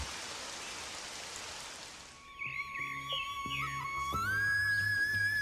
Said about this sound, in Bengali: গুড়ি গুড়ি বৃষ্টি পড়ছে